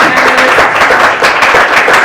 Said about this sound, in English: Can we get a round of applause for